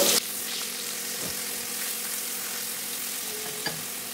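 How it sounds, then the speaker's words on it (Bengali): Pomfret fish, flipped over in a pan of hot oil, sizzles with a soft, steady crackling hiss, a few faint clicks and taps of a utensil sounding under the frying. "এবার আমি মাছগুলো অপর পাশ উল্টে দেব।"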